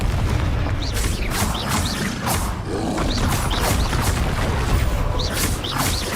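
Confringo spell blasts in Hogwarts Legacy, a dense, loud crackling roar of repeated booming impacts and fiery bursts layered over one another, continuous and close.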